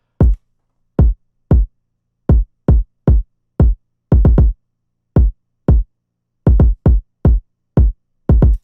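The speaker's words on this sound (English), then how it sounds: "And then the kicks, which again just follows the 808 pattern" Trap beat kicks following the 808 pattern: booming low kick drum hits in an irregular syncopated rhythm, some in quick doubles and triples, loud and dry with silence between.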